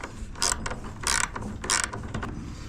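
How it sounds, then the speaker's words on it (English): Vice grips or channel locks working a carriage bolt loose on a wheelbarrow, a series of bursts of gritty metallic ratcheting and grinding turns spaced in a loose rhythm, close and fairly loud with no talk. "Use your vice grips or your channel locks to hold the bottom part of the carriage bolt and continue to get it off."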